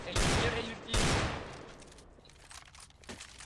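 Gunfire in Counter-Strike: Global Offensive on a co-op heist custom map: two loud close shots in quick succession, then a fading tail with faint scattered pops.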